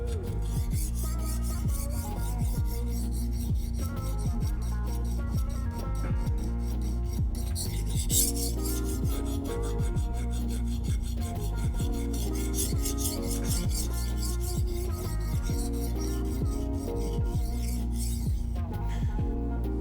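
Knife sharpening on a HORL 3 rolling sharpener: a continuous, close, gritty rasp of blade against abrasive with a steady rubbing, back-and-forth rhythm for the full length.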